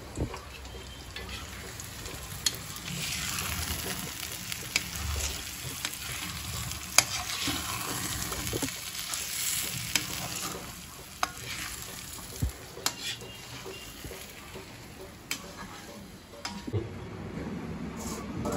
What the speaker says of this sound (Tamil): இப்போ கிளறி விடணும்.